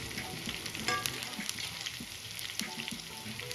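Onion, tomato, garlic, ginger, cloves, peppercorns and cinnamon sauté in a pan for Kolhapuri misal pav, giving a steady close sizzle with scattered stirring clicks and no voices.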